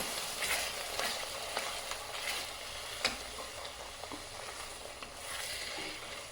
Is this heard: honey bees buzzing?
no